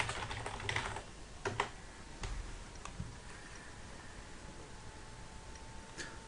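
Keystrokes on a computer keyboard come in short scattered bursts, with a few sharp clicks near the start and a lone tap near the end, over a quiet room hiss.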